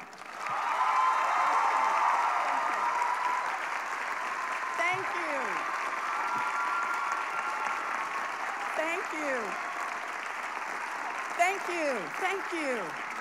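Sustained applause from a large commencement audience welcoming Senator Elizabeth Warren to the podium at UMass Amherst, dense and steady clapping with some cheering and a voice speaking over it near the end.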